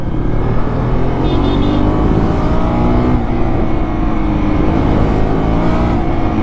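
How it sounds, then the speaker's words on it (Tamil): A 2025 KTM RC 200 TFT-variant motorcycle revs its exhaust while being ridden, producing a loud, continuous engine roar with rising and falling pitch throughout. "எக்ஸாஸ்ட் சவுண்ட் சூப்பராக இருக்குங்க."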